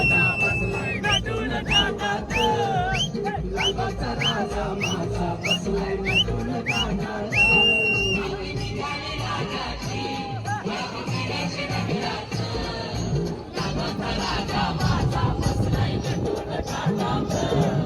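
A crowd celebrates at the Ekvira palkhi boat race in Chaul, Alibag, a dense, steady roar of cheering and shouting, cut through near the start by a run of sharp repeated whistle blasts over music and a busy outdoor din.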